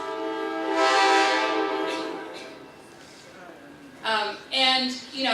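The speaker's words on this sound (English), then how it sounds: "I'll let that train pass." A train passes in the Bay Area, sounding its horn: one long, loud blast, then two shorter blasts close together, over a rolling rail rumble.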